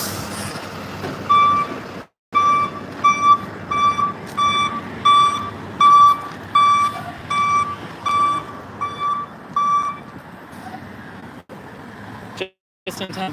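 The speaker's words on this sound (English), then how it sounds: "we didn't get run over by the tow truck. At least they're loud when they're backing up." A tow truck backs up at a roadside emergency scene, its loud reversing alarm beeping steadily in a regular rhythm for several seconds over street and traffic noise, with voices talking nearby.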